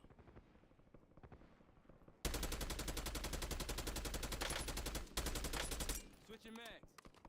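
Intense video game gunfire, a quiet patter of distant shots that suddenly erupts into a loud, sustained automatic burst, briefly breaks, resumes, then gives way to scattered clanks and softer shots.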